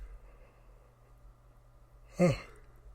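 A single person yawns during a podcast, with a brief breathy yawn rising near the end and quiet room hum before it.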